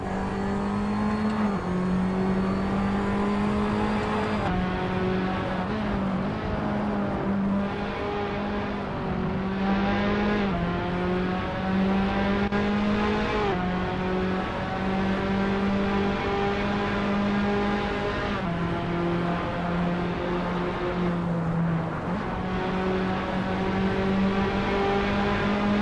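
Tatuus FA01 open-wheel race car engines howl steadily around Watkins Glen in Assetto Corsa, pitch climbing through the gears with repeated upshifts and dips into braking, loud and close throughout with no talk.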